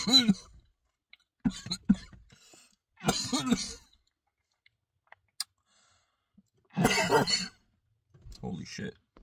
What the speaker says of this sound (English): This stuff making me cough.